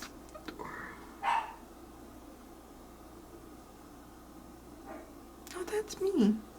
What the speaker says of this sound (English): I don't know what you're barking at.